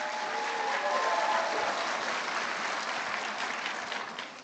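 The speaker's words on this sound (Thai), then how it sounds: "자, 우리 라이언 법인장님께 박수 한번 보내주시고 ปรบมือให้คุณไรอันหน่อยนะครับ" An audience at a corporate vision presentation applauds a company executive, a steady wash of clapping from a crowd that holds level for several seconds, then thins out toward the end.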